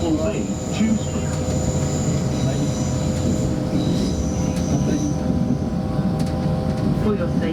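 A passenger train runs steadily on rails between Dewsbury and Manchester Victoria, a continuous close rumble with faint squeals, heard from inside the carriage.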